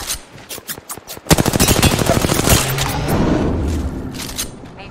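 Rapid automatic gunfire in Apex Legends, a loud sustained burst of closely spaced shots following a few scattered single cracks, with a low rumbling tail as the firing fades.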